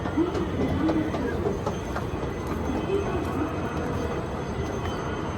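A train rumbles past a station platform steadily, a dense rolling roar with faint wheel squeals near the start, loud and continuous throughout.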